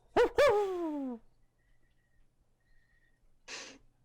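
A deep great horned owl hoot used as a sound effect in a tabletop role-playing game session, sounding as two strong, close hooting calls followed by a trailing tone, then near silence and a short breathy rustle.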